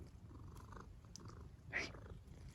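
A cat purrs quietly up close, a soft low rumble that continues steadily through the moment, with a small brighter sound partway through.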